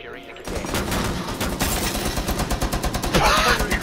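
Rapid gunfire in the Rainbow Six Siege video game, a loud continuous burst of automatic shots running throughout with a tense voice speaking over it.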